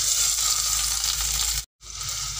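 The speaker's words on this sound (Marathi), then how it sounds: "आता ही काकडी तुपामध्ये छान परतून घेते मी" Grated cucumber sautéing in ghee in a pot gives a steady, close hiss of frying that breaks off abruptly near the end before resuming.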